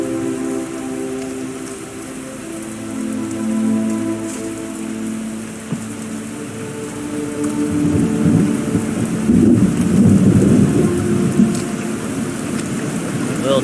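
Video-game rain falls steadily in a forest, a dense patter on surfaces, with deep thunder swelling and rolling loudly through the second half.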